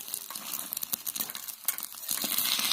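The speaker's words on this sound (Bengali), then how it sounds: "দেখতে পাচ্ছ আজকে আমার মিনি কিচেনে একটা ডিম ভাজা হচ্ছে" An egg fries in a small pan in a mini kitchen, giving a close, crackling sizzle with irregular pops and scraping bursts that build in density toward the end.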